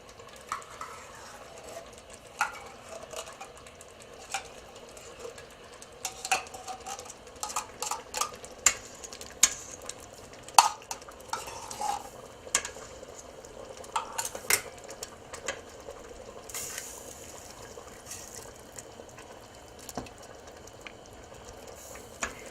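Spoon stirring tomato paste into a pot of elk and butter bean chili, steady scraping and clinking against the pot with occasional sharp knocks over a low simmering bed, close and without talk.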